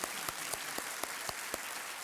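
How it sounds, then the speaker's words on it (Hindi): Studio audience at the Kaun Banega Crorepati season 7 quiz show claps steadily for about two seconds, a dense wash of hand claps punctuated by sharper accents at roughly even quarter-second intervals. "तालियों के साथ इनका अभिनंदन।"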